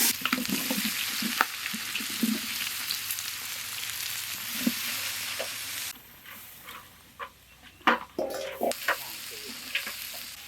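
Onions and green chillies frying in hot ghee with spices for a country chicken dum biryani, a steady bright sizzle with occasional stirring clatters, quieting partway before louder scrapes and stirs.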